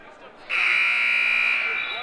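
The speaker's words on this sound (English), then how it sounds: "yep, that's the buzzer there" A basketball scoreboard buzzer at a high school gym game sounds one long, loud, steady tone for about a second and a half, starting abruptly after faint crowd murmur.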